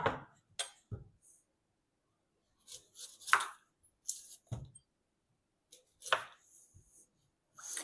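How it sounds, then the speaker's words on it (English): A knife chopping onions and garlic on a board, with sharp, close, isolated cuts in irregular bursts separated by silence and no steady rhythm. No voices. "let's start cutting some onions and some garlic."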